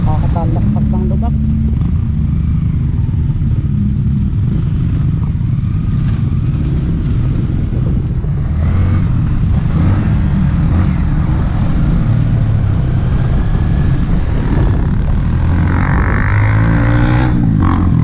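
A motorcycle engine drones and revs steadily while riding along a road, with someone talking over the engine noise throughout.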